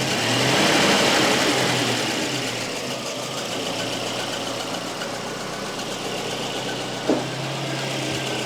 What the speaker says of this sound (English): I'm just gonna rev it and see if it settles a little bit.